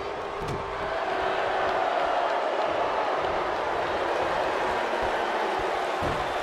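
Arena crowd in a WWE video game jeering a wrestler, a steady, dense roar of many voices that holds at an even level throughout with a few faint thuds underneath.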